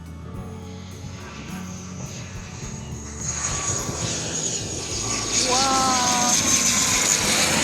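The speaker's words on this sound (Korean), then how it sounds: "여러분, 비행기 옵니다." An airplane approaches low over a beach beside an airport, its engine roar swelling from a steady rumble to a loud, close whine, while a voice briefly exclaims over it.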